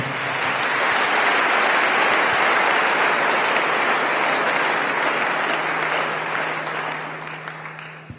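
A church congregation applauds and cheers in praise, a dense, loud, steady wash of clapping that runs the whole time and fades slightly at the end.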